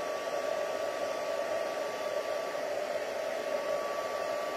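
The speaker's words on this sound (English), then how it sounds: "let's grab our heat tool, warm it up" A heat embossing tool warms up with a steady, even blowing whir and a faint tonal hum, constant and close, alone without any talk.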